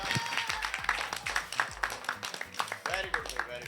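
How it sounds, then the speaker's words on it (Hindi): A small group claps for the winner of a Ludo game, with loud, irregular claps mixed with talking voices and a rhythmic low thumping underneath. "तालियां बजाओ यार"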